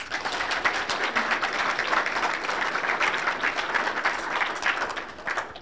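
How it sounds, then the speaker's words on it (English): An audience at an evening university startup challenge event breaks into dense, sustained applause that fills the room, with scattered individual claps and no talking over it. "let's give them a round of applause"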